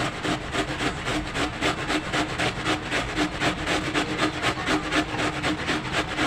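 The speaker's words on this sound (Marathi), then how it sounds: "किसणीने मी किसून घेते एकदम बारीक किसा" Cabbage is grated very finely on a hand grater, a steady, rhythmic rasping stroke repeated about three times per second, close and loud with no talking.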